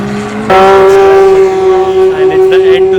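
A Toyota Supra race car at a UAE time attack event roars past with a loud, sustained engine note that jumps in abruptly and holds a strong steady pitch for a few seconds, slight wavering as it moves.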